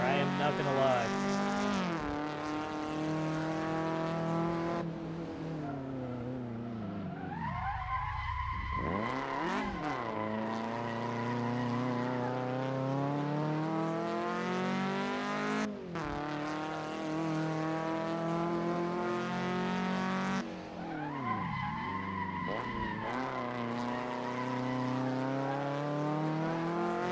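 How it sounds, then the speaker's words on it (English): Race car engine from a racing video game, loud and continuous, rising and falling through gear changes with brief squeal-like pitch dips under occasional speech. "I love the sound of this car."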